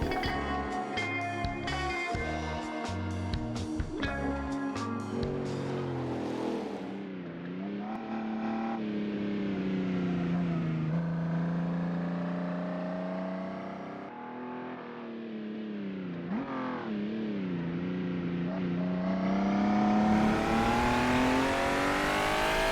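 A Shelby Cobra race car engine in a historic racing video game, revving hard through rising and falling gear changes, a steady loud drone with sweeping pitch shifts and brief tire squeal, no talk.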